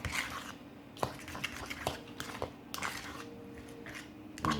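Egg sandwich filling being mixed with sweet chili sauce in a bowl, a close soft squishing with light clinks of utensil on dish, irregular and fairly quiet.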